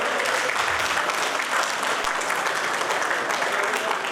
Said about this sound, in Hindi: जोरदार तालियों के साथ उसका स्वागत करें।